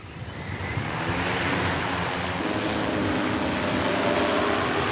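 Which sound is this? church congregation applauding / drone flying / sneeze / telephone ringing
drone flying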